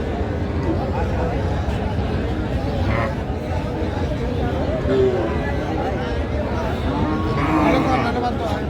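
Cattle at a busy livestock market, with low moos and animal noise spread through a dense crowd din; people talk and bargain throughout over the steady, loud background.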